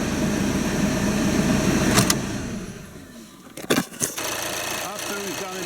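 Volkswagen Passat engine idling after an oil and filter change, a steady mechanical running hum with a couple of sharp knocks or clicks near the end.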